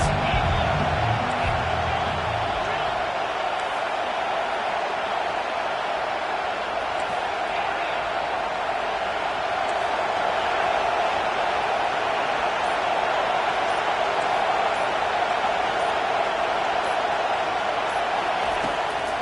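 A college football stadium crowd at Notre Dame roars on a third down, a broad, sustained wash of cheering that stays at an even level while commentators talk over it.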